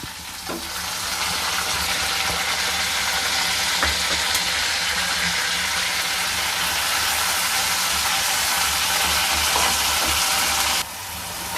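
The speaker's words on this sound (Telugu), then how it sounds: "ఇప్పుడు ఈ ఉల్లిపాయ, వెల్లుల్లిపాయ, జీలకర్ర, అల్లం వేసినటువంటి ఈ పేస్ట్ ఇందులో వేసేసుకోవాలి." Onion, garlic, cumin and ginger paste frying in a clay mud pot for a prawn and drumstick curry, a steady close sizzle and crackle that holds loud and even for the whole stretch, with a few small stirring knocks.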